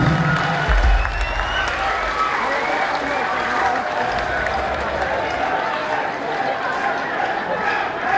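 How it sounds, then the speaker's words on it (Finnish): A metal concert crowd in Sotkamo applauds and cheers throughout, a dense roar of clapping and voices with some low rumble early on. "No tee aplodit heille."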